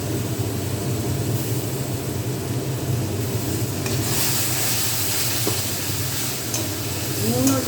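A ground spice paste with turmeric and ginger fries in oil as it is stirred, a moderate, even sizzle with soft scraping that stays constant throughout, with no clear voices.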